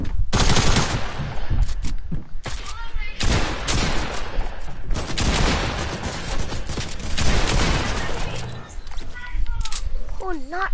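SMG fire rattles in dense, sustained bursts during a chaotic online video game firefight, loud and close, while players shout over the shooting.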